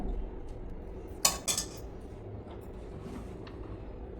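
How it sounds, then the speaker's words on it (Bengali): A spoon and plate are picked up in a home kitchen, giving a brief pair of bright metallic clinks of cutlery against dishware. The clinks sound close over a low, quiet room background with no talking. "চামচ নিয়ে আসি আর প্লেট নিয়ে আসি"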